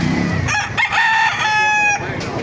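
A rooster crows loudly and nearby at a busy outdoor chicken market in Baliuag, Bulacan, with a long drawn-out call over background clucking and crowd murmur.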